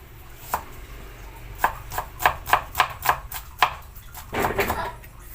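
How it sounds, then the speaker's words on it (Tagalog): Knife chopping ingredients for a tilapia dish, a run of about eight crisp, evenly spaced cuts on a board, close and clear, ending in a brief scraping shuffle. "Ngayon po maghihiwa naman po tayo."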